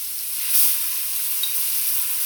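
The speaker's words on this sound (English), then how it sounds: "So to the same pot, we're going to add our mirepoix" Mirepoix and garlic sauté in a pot used for braising short ribs, giving a steady, close hiss of sizzling with a brief swell near the start.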